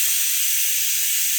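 Steady high-pitched hiss of steam escaping through a pressure cooker whistle on an induction stove, loud and continuous with no voices.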